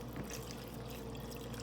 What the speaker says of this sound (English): Then I'm going to pour water into it up to the line